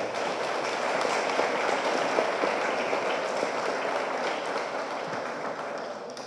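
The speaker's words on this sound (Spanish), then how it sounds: "Un fuerte aplauso" Applause for a guest speaker, a hydrology doctor, at a Spanish-language talk on water distribution and climate change: dense, steady hand clapping from an audience that holds at an even level throughout without fading.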